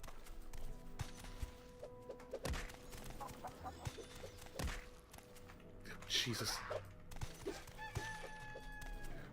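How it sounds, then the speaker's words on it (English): Monsters in the video game Morrowind make clucking, crowing chicken-like sounds in scattered bursts amid game effects and footsteps, while someone speaks briefly. "Why do they also make chicken sounds?"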